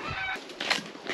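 A few brief clucks from chickens nearby, quick and soft, with a faint rustle in the background.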